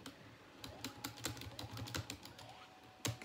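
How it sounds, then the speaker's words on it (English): Computer keyboard keys, the space bar among them, are tapped in a quick irregular run of crisp clicks, close and moderately soft, with a heavier thump near the end. "I'm pressing the space bar"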